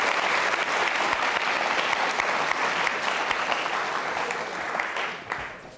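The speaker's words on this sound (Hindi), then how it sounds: "तालियां जोरों से बजाइए, जोरों से बजाइए।" Schoolchildren and guests at a Jain school quiz show on Lord Mahaveer clap loudly and steadily as a crowd, the sustained applause thinning and fading over the last second.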